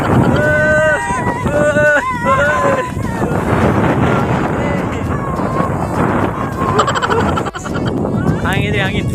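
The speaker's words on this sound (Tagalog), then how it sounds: "Hangin din, hangin." Strong outdoor wind buffets the microphone in a loud, continuous rumble, with people talking and calling out over it.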